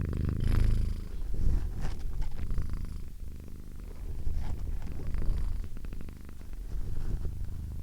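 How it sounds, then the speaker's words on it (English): A cat purrs close up, a steady low rumbling that rises and falls with each breath, continuing throughout with no talking. "contributing with Kachu's purrs"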